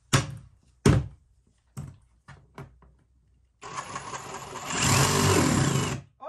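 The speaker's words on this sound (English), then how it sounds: "First, I'm going to try the sawzall." A sawzall reciprocating saw cuts into a four-wheeler part, starting with several sharp knocks and short revs, then running steadily and loudly for a few seconds.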